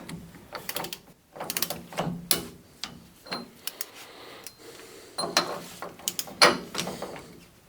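A torque wrench ratchets in short bursts of clicking while tightening the rear hub spindle nut on a 1999–2006 Chevy Silverado 2500HD with a 14-bolt full-floating axle, close by and uneven, with pauses between strokes.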